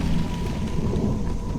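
Steady heavy rain with low thunder rumbling over a rural village during a storm, a dense continuous wash of sound with no voices.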